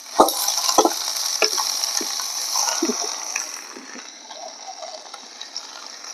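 Okra frying in a pan for village-style Punjabi bhindi sabji, a steady sizzle under sharp scraping clatters of a spoon stirring, loud at first and easing to a quieter fry later.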